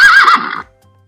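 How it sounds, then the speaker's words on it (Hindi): A single horse neigh as a sound effect: one loud, close, shrill whinny that wavers for about half a second, then cuts off into near silence. "तो जैसे आपने घोड़े की आवाज़ सुनी"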